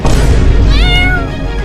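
A cartoon cat lets out a single loud, drawn-out meow over a dense, noisy background.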